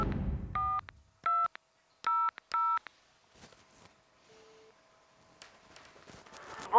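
A telephone keypad dials a psychic's line, with four clear, separate touch-tone bursts in quick succession. Quiet handling noises and a faint tone follow before the line connects.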